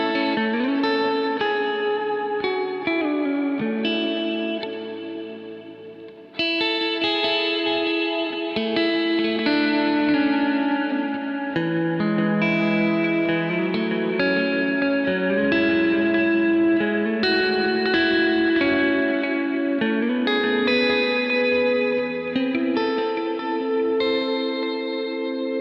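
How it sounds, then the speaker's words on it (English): An electric guitar played through a Kemper profiler on a bright reverb setting rings out sustained chords and melodic lines with a shimmering, lightly distorted tone. Long reverb tails and echoes bloom behind the notes, loud and continuous with one short dip. "And then I have my bright reverb setting,"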